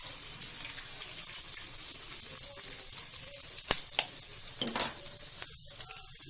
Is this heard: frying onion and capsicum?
yes